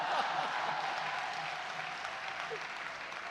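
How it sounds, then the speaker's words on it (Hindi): Audience at a Hindi comedy poetry show (hasya kavi sammelan) claps steadily and fairly loudly throughout, a dense continuous applause with no speech over it. "और तालियां तो इस बात पे बजा दो"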